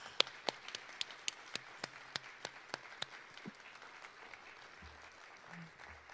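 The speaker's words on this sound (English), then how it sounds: "thank, by your applause, Adrienne and her amazing staff and colleagues for that miracle." Scattered hand claps ring out from a small audience, sharp and spaced, thinning out after a few seconds into quiet room noise.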